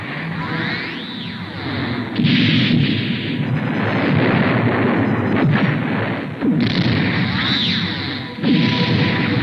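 Weapons fire from a submarine in an animated show, heard as a loud, continuous barrage of booming explosions and rumbling blasts that keeps going for the whole stretch, with no talk over it.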